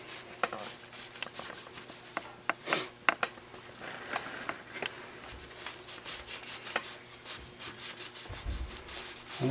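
Grease residue is wiped and scrubbed off a rotor's bearing seat during a bearing replacement, giving quiet, intermittent rubbing and scraping with a few sharper knocks against a faint background hum.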